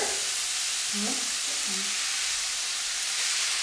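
Meat frying with onion and garlic in a layer of fat, a loud, dense, continuous hiss of sizzling close up, with a few faint stirring sounds beneath it.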